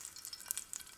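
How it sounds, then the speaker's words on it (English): Cubed chicken sizzles in hot frying oil, a faint close crackle with small sharp pops across a single second, with no voices. "When it starts sizzling, the rest of it goes in."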